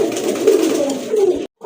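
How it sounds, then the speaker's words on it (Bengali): A female pigeon of the Rajgolla breed with yellow colouring coos steadily up close, a continuous low warbling run that stops abruptly near the end. "বাম পাশে ওইটা হচ্ছে মাদি কবুতর"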